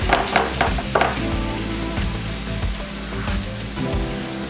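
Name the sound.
meat browning in a pot for Mexican stew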